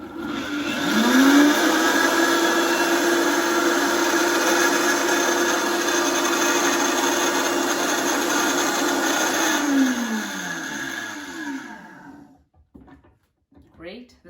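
A food processor whirs loudly and steadily for about ten seconds, blending chickpeas, garlic, tahini and olive oil into hummus. The motor then winds down and stops, leaving near silence.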